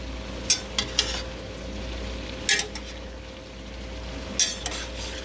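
A frying pan of wilted spinach being stirred, with a steady sizzle running throughout and a few sharp utensil scrapes and clinks against the pan.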